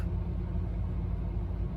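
A 2014 Opel Corsa D 1.4 on a road test drive after a coil pack replacement, giving a steady low engine and road rumble heard from inside the cabin, with no voices.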